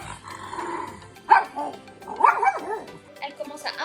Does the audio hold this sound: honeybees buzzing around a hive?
no